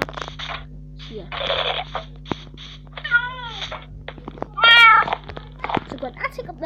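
A cat in Minecraft Pocket Edition meows twice in short rising and falling calls, mixed with clicks and other game sounds, while a person talks.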